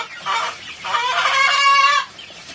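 A chicken in a backyard coop clucks loudly and insistently in two sustained bursts, close by, with no talk over it.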